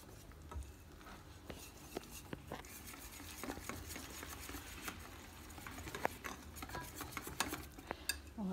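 Qatayef batter mixed with water in a bowl, quiet wet stirring and swishing with scattered light taps and clinks of the utensil against the bowl.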